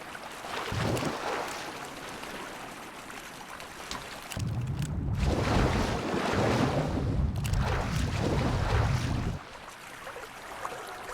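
Water waves wash and surge in a video game running on a 2006 gaming PC, a broad steady rush with a deeper rolling swell that swells louder in the middle stretch before easing back.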